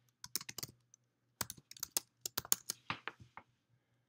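Several sharp computer mouse clicks at a desk, scattered singly and in quick bursts, close and fairly quiet, with no talking over them.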